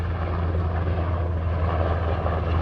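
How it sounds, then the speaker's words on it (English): A helicopter passing over Washington, DC near the tidal basin, its rotor and engine producing a steady low throbbing drone, loud and continuous throughout with no talking. "I can't even tell what kind of helicopter it is."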